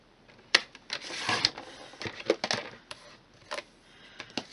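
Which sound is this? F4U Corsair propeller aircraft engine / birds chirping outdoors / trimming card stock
trimming card stock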